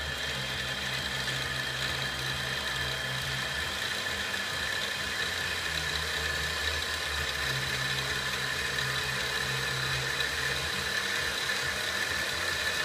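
A 7x10 CNC lathe spindle runs steadily with a constant mechanical whine and hum, plus a low motor drone that shifts slightly in pitch as the speed rises, heard up close with no talking.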